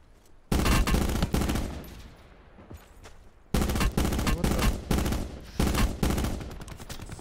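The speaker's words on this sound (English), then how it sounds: "it's just people out there shooting at you" Bursts of video game gunfire from other players fill the scene, loud rapid volleys starting abruptly, with a pause between and further clustered shots continuing to the end.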